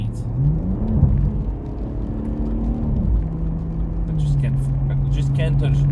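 A BMW M140i fitted with a Remus exhaust drones and rumbles at low speed on a wet road, its steady engine note running beneath someone talking throughout.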